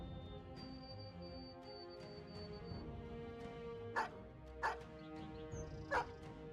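Several sharp dog barks from the video game Battle Brothers ring out at mid distance over a steady, busy game soundtrack, arriving as three distinct yaps spaced about half a second apart near the end.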